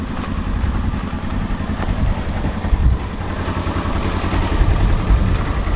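A 2018 Polaris Ranger XP 1000 side-by-side engine running steadily up close, a continuous low rumble with slight throttle swells as it sets off on a ride in a driveway.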